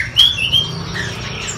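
Caged songbirds at a large bird market mall in Pasar Curug, Indonesia, giving a few sharp, close squawks and chirps over a dull indoor murmur.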